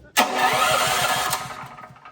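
A hardwired generator kicks an engine into life with a sudden loud start that settles into a steady, rhythmic idle, close by, with no talking.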